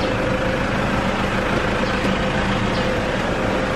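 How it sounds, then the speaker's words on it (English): A vehicle engine fitted with a 2LTE-sourced setup and new radiator idles steadily up close, a constant dense rumble with a faint tonal hum and no change in pace; no voices over it. "That's our engine."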